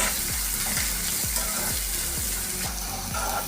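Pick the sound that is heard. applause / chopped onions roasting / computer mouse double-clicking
chopped onions roasting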